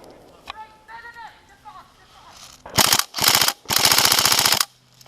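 An airsoft gun with a recoil mechanism and a clockwork-fed high capacity magazine fires three loud, rapid full-auto bursts close by, the last one the longest, after someone talks.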